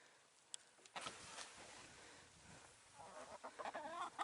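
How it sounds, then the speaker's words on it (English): Jeff's pet hen, newly acquired and not yet named, clucks softly on a farm being readied for an arctic cold snap, a faint, scattered run of clucks over low outdoor noise. "That's Jeff's chicken"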